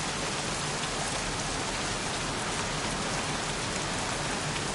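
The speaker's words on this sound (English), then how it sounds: "Goddamn rain." Steady heavy rain pours down without a break, a dense hiss of drops striking surfaces close by.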